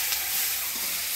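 Chopped onion frying in hot tempering oil with dried chilli, cumin and bay leaf, a steady close hiss and crackle with no talk.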